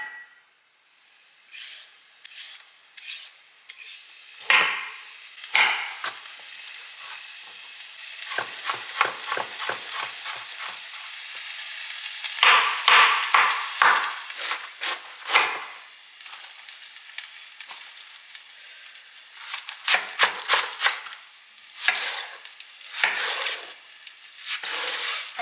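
Sliced onion cooks in a sauté pan, a bright frying hiss rising and falling with bursts of rapid scraping strokes as it is stirred, close and without any talking.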